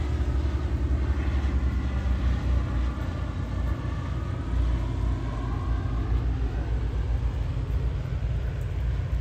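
A Glasair Sh R2 light aircraft landing in rain at Fort Lauderdale Airport, a steady, continuous engine drone and rumble mixed with rain hiss, holding at an even level throughout.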